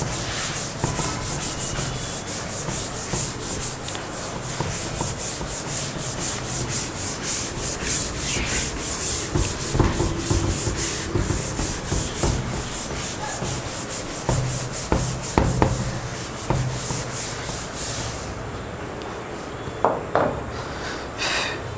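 Writing is rubbed off a board during a class, giving a close, continuous scrubbing and rubbing noise for about eighteen seconds before it stops, followed by a few faint knocks.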